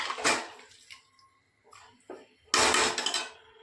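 Rice in water is stirred in a pot, with sloshing watery swirls and scraping clinks of a utensil against the metal in uneven bursts, close by with short quiet gaps.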